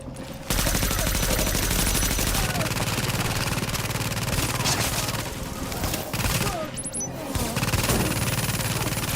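Sustained turret gunfire in the video game The Division, a loud, dense fusillade of rapid automatic shots that runs almost unbroken across the clip, with a brief lull near the end.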